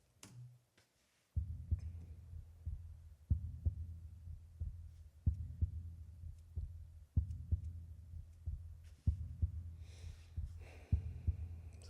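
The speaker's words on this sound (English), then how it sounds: "It's like a heartbeat." A slow heartbeat pulse from a song: deep, muffled double thumps repeat steadily and close, with faint ambient hum between beats and no voices.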